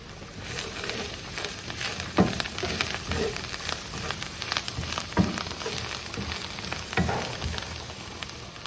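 Salted potatoes sauté in a pan for crispy potato rotti, giving a steady close sizzle with regular scrapes and knocks of a spatula throughout.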